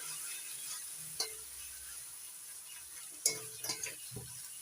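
Ground coriander, cumin and turmeric being stirred and fried in a pan for a spicy fish curry, a quiet steady sizzle with a few sharp clinks and scrapes of a spoon against the pan.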